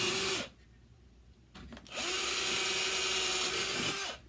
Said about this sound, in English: try not to drill through my table.